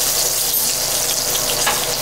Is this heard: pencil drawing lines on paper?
no